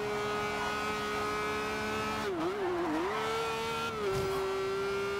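Race car engine in Forza Horizon 2 holds a steady, loud, close whine at high revs, dipping and wavering briefly as gears shift and the car swerves past rivals, with faint tire noise beneath.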